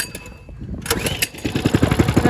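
A motorcycle engine cranks and catches, then settles into a close, loud, rapid putter after a couple of starter attempts.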